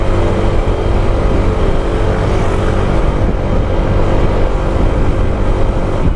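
A Honda ADV 160 scooter accelerates at full throttle, its engine a loud, continuous drone close by, mixed with heavy wind rush throughout and no talking.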